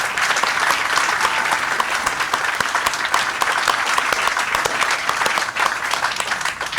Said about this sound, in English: Please join me in a round of applause for these great Army families out here.